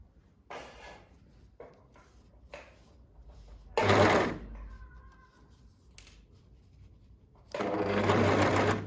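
Close-up sewing machine stitching a neckline seam while its blade trims the seam allowance, with short bursts of stitching that give way to two longer, louder runs amid quieter handling sounds.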